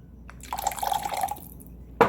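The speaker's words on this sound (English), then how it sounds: "I'm gonna add actually a little bit more vinegar" Vinegar poured into a spring roll dipping sauce gives a brief, soft trickle and dripping close by, followed by a sharp little clink near the end.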